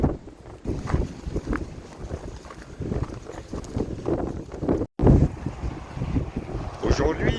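Violent wind gusts buffet the microphone outdoors beside a road, loud rumbling surges rising and falling irregularly with a brief dropout midway.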